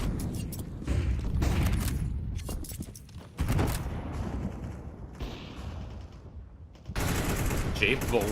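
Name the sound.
gunshot wallbang in Counter-Strike video game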